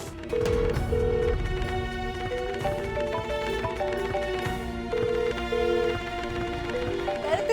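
A phone ringing over and over in a domestic drama scene, its repeated electronic ring pattern recurring steadily at moderate level beneath background music.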